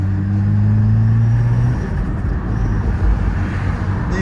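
A 2006 Saab 9-2X engine pulling in second gear, a steady low droning rumble close up that eases slightly partway through, with no talking.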